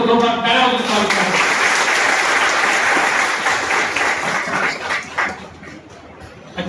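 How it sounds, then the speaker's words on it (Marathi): Sustained applause from an audience at a Shiv Jayanti celebration in a Thane municipal transport bus depot, loud and continuous throughout, thinning slightly toward the end, with some talk mixed in. "याबद्दल सर्वप्रथम आपल्या व्यवस्थेचा जोरदार टाळ्या वाजवा।"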